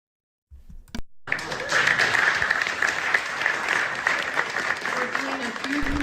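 A roomful of people breaks into dense, sustained applause after a brief opening thump, steady and fairly loud for several seconds, with a voice faintly present underneath.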